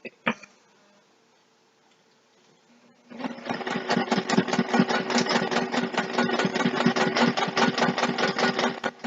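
After a near-silent pause, a sewing machine stitching a zipper bag at a short stitch length of about 2 starts up close and hums in a fast, steady rhythm of needle strokes until the end.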